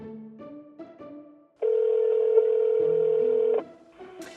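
Telephone tones play while an eCall emergency call is transferred: short stepped beeps at shifting pitches, then a long, loud, steady tone, then more stepped beeps. The tones sound clearly on their own, with no speech.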